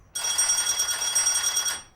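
A telephone rings indoors with a steady, bright electronic trill that starts abruptly and holds for nearly two seconds before fading, close and clear with no voices.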